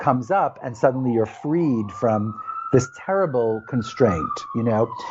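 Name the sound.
emergency vehicle siren passing outside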